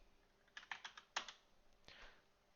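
Several quick keystrokes on a computer keyboard, a short burst of taps followed by one firmer press, close and fairly quiet.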